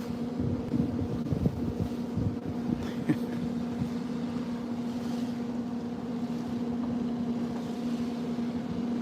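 Steady low engine drone of a pilot boat motor off St. Maarten, with wind buffeting the microphone, continuous and fairly close throughout.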